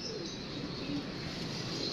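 An old black-tipped female pigeon coos softly and steadily, the calls close but low beneath a constant background hiss, with no voices.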